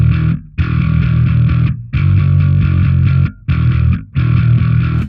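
Electric bass played through distortion and compressor pedals, giving loud, thick, gritty notes in five sustained phrases separated by brief gaps, with no talking.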